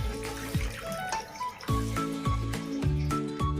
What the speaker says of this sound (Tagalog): At saka lalagyan ko po siya ng tubig.